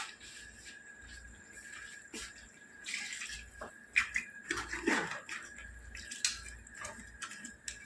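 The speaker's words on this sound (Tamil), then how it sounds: "ஓகே கொஞ்சம் தண்ணி ஊற்றிடலாம்" Water trickles and splashes into crab gravy in a home kitchen, quiet and intermittent with a louder pour in the middle, alongside a few soft clinks and faint background hum.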